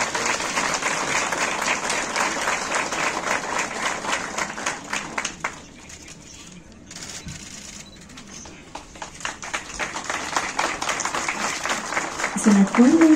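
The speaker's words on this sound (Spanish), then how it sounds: "Un caluroso aplauso, hermanos y hermanas." A large crowd at a Bolivia–Brazil agreement signing applauds loudly and steadily, the clapping dipping briefly midway before swelling again, with a few voices mixed in.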